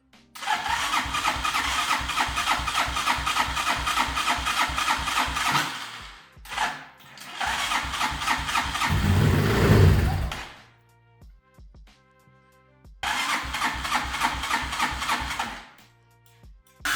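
An old abandoned dirt bike, primed with fuel sprayed into the combustion chamber, is cranked repeatedly with rapid churning bursts and a brief rough firing, then stalls into sputters before cranking again, loud and close.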